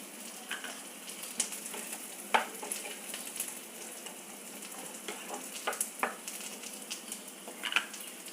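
Moong dal and chopped snake gourd sizzle steadily in a pan, a soft continuous frying crackle broken by scattered sharp clicks and scrapes of stirring, close by with no talk.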